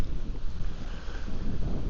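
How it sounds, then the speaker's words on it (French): Strong wind buffets the microphone at a freshwater lake beach on a hot day, a steady, loud rumbling gust noise with no pause and no voices. "il y a beaucoup de vent"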